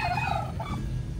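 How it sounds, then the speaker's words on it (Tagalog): A turkey on a small goose farm gives one close, rapid warbling gobble that trails off, with a low background hum beneath it. "Mas maingay pa yung pabo."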